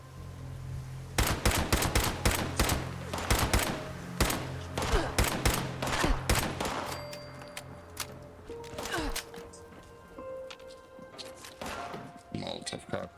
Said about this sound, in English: Okay, stop shooting at me,